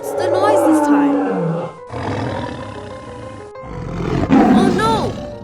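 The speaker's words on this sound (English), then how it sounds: "Oh no! It's a tiger!" A tiger roars loudly and up close in long, rumbling calls, with voices talking and exclaiming over and between the roars, in a children's animated vehicle story.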